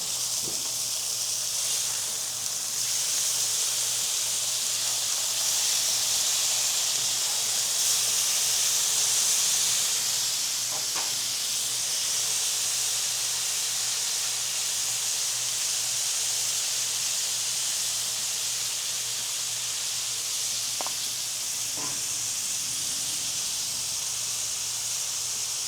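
Butterflied chicken sizzles steadily on a Blackstone griddle, a dense continuous hiss with a few soft clunks as pieces are flipped.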